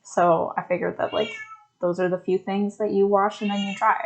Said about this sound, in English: I apologize for my cat screaming in the background